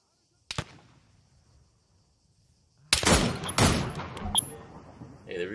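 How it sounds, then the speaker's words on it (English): Video game gunfire in Arma 3 Antistasi: a single sharp shot, a quiet pause, then a dense burst of rapid automatic fire with further loud cracks, fairly close and dominant. "Just giving myself some covering fire."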